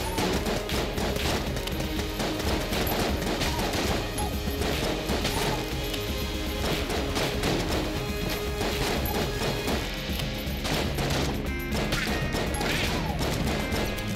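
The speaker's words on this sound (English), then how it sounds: "I hate this gun. I really hate this gun. It fires so slowly." A slow-firing gun in Enter the Gungeon shoots amid dense, continuous game combat, with repeated sharp smashing impacts and crashes layered over a busy, loud background for the whole stretch.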